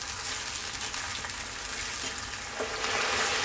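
Eggplant tomato pasta sauce bubbles and sizzles steadily in a pan, a continuous close hiss with a faint stir and scrape near the end, and no voices.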